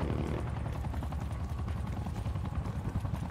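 A chopper gunner helicopter in Black Ops 6 Zombies, its rotor thumping in a fast steady pulse with a low engine drone, loud and continuous throughout.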